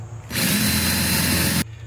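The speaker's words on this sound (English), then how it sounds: "after further inspection, you do have to do some drilling" A power drill bores holes into a Nucanoe kayak, one loud, steady whine that starts abruptly and holds for just over a second before cutting off.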